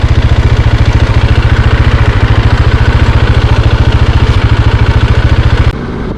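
A motorcycle engine fires and settles straight into a fast, loud, close idle, its steady low chugging beat running for about six seconds before cutting off abruptly.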